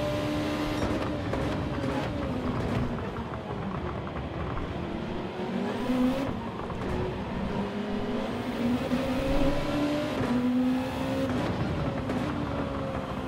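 A race car engine in Gran Turismo 7 revs loud and close, its pitch climbing and dipping as the throttle is fed in and eased through corners, a continuous roar with no talking.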